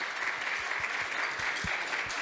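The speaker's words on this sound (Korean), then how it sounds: "따뜻한 박수 부탁드립니다" Warm applause from a church congregation welcoming a new member, a steady, even patter of many hands clapping throughout, moderately close, with no talk over it.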